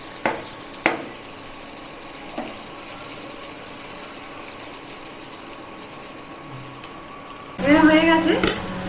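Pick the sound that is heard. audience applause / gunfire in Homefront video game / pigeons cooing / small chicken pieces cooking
small chicken pieces cooking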